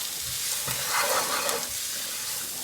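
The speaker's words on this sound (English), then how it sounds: "Then mix for 1 minute." Spices, turmeric, cumin and curry powder, are stirred and sizzling in a hot pan for bobotie, a steady close frying hiss with soft scraping movements throughout, no voices.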